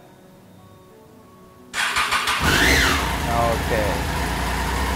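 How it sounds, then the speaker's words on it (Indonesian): A stock, unmodified Triumph Street Triple 675R motorcycle with its standard exhaust cranks over and fires up, then settles into a loud, steady idle close by, after someone speaks briefly. "Oke, ini dia suara dari Triumph Street Triple 675R."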